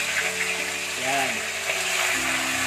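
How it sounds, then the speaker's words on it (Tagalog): Tilapia fries in hot oil in a pan, a steady close sizzle and crackle throughout, with a faint voice briefly underneath. "siguraduhin yung mainit yung mantika bago ilupog niyo yung tilapia para hindi dumikit sa kawali"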